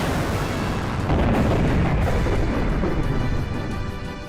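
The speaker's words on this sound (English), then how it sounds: "Should I just blast him with the Yig cannon?" The Yig cannon fires in the Xenogears role-playing game, a loud, sustained booming blast that fills the whole moment and tapers off slightly at the end, heard alone.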